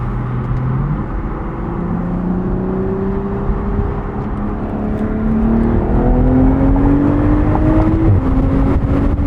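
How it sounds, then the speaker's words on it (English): A 2023 BMW Z4 M40i roadster with the B58 turbocharged inline-six drives under load. Its smooth engine drone climbs steadily in pitch, with brief shifts between gears. The sound is loud and continuous, with no talking. "This inline 6 costs a little bit more money than the turbo 4-cylinder, but I think it's worth it just for that sound."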